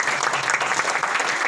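Applause from a seated audience at a family gathering held at a temple hall, dense steady clapping from many hands filling the whole stretch at an even level with no voices standing out.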